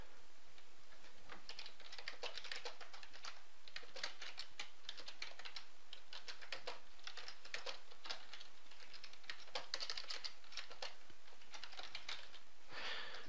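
Keys clatter on a computer keyboard as a comment is typed, with quick irregular runs of soft clicks and brief pauses over about thirteen seconds, quiet and close, with no talking.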